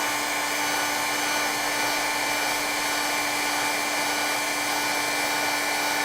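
A heat embossing tool blows hot air over embossing powder with a constant, loud whirring hiss and a steady motor whine that never changes, close by and alone.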